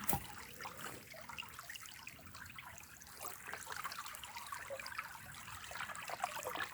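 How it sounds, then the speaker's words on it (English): Water trickles and drains steadily from a gold prospecting sluice on a stream, a soft continuous dribble with small splashes, close by and with no talk. "I'm just going to lift up the front just enough so that the water stops going through the sluice."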